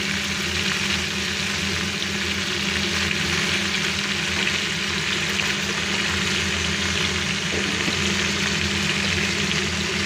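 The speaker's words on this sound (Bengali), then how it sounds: "এটা আমি ভালো করে নেড়ে পুরো কিন্তু লাল করে এটা ভেজে নেব" Fish head and cauliflower curry fries in a pan on a raised gas flame, a steady loud sizzle holding for the whole stretch with soft stirring scrapes mixed in.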